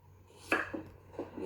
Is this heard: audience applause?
no